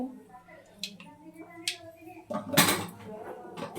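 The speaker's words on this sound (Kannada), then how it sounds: "ಈಗ ಸಾಸಿವೆ ಹಾಕ್ತಿದ್ದಾಳೆ. ಸೊ ಸಾಸಿವೆ ಶಿಟ ಪಟ ಅನ್ನುತ್ತೆ" Mustard seeds spluttering in hot oil while bitter gourd palya is cooked: scattered sharp pops and crackles that swell into a dense, louder burst, with a faint voice in the background.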